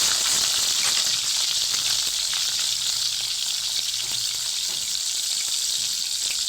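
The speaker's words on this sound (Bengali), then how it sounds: "ফোড়নের জন্যে তেজপাতা দিয়ে দিলাম, পেঁয়াজ দিয়ে দেবো" Bay leaves and onion sizzling in hot oil as a tempering for a Bengali-style moong dal with papaya, a steady, loud close-up frying hiss that holds without a break.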